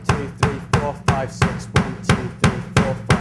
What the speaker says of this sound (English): a bass drum beat on every beat of the bar